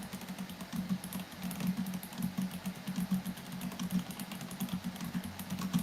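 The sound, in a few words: loud computer keyboard typing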